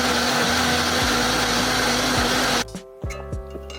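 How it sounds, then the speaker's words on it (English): Electric blender whirring loudly and steadily as it blends pineapple, ginger, mint and water into juice, then cutting off abruptly, leaving a few faint clunks and knocks. "now we're gonna blend it"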